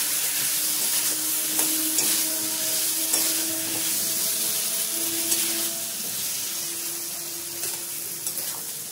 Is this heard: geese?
no